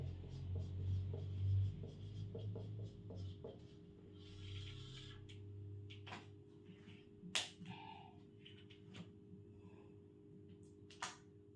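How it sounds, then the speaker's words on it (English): Pen or marker writing the word carbohydrate on a board, a run of soft scratchy strokes and taps near at hand, with low hum in the background and no talk. "First I am writing here carbohydrate."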